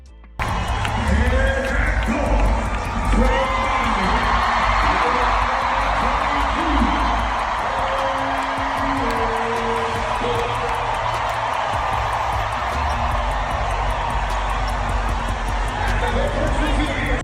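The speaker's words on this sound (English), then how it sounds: "During player introductions, the arena exploded in sound, registering a stunning 116 decibels." Basketball arena crowd roaring during player introductions at an Indiana Fever game in Iowa, a loud continuous din of cheering and babble sustained for the whole stretch, with voices and a booming low rumble.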